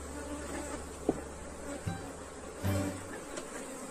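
Honeybees buzz around an opened hive after a split colony, a dense continuous hum close by with a few faint knocks and clicks of handling the hive box.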